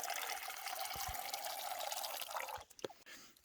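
Water poured steadily into a camping cook pot outdoors, a continuous splashing trickle for a few seconds that ends abruptly, followed by a couple of faint clinks.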